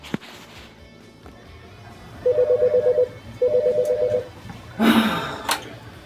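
A telephone rings in two trilling bursts separated by a short pause, followed by a brief clatter. No one speaks.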